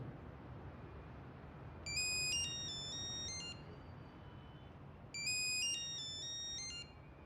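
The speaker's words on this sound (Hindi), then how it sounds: "तुम फ़ोन का जवाब तो दो, देखो कौन है" A phone rings in two repeated electronic ringtone bursts over a steady low background hum, with no one speaking during the rings.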